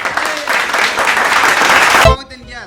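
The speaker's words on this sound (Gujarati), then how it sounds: "તાળી પાડી બધા" A group of people clapping together during a color matching challenge game, dense loud applause lasting about two seconds before stopping abruptly.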